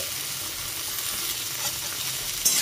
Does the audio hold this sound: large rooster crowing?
no